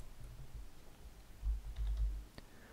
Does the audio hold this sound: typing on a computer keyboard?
yes